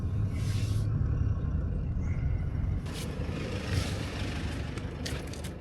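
Car engine rumbling steadily from inside a vehicle driving slowly toward an abandoned truck, a low continuous drone with occasional scrapes and bumps.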